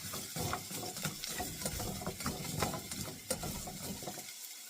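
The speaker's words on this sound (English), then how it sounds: "I am lightly sauteing these in some avocado oil" Vegetables sauteing in avocado oil for meal prep, a steady dense crackle and sizzle with scattered sharp pops and clicks throughout, no voices.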